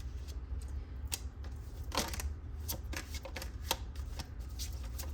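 Tarot cards being shuffled by hand, a steady run of soft papery riffles and taps at close range, quiet and continuous, with no voice.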